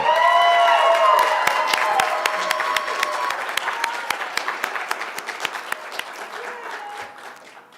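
Audience applause at a state poetry recitation competition finals as participants return to the stage, dense clapping that thins into scattered claps and fades; a voice speaks briefly over it at the start.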